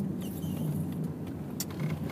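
A car's engine and road noise rumble steadily from inside the cabin while driving, a low continuous drone with a few faint clicks and rattles and no talk.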